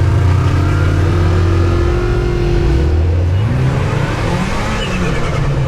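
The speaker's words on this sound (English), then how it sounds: "Is that the supercharger?" Supercharged Kawasaki Teryx5 H2 side-by-side accelerating on a trail in full-power firm mode, a loud, close engine drone rising and falling in pitch with supercharger whine.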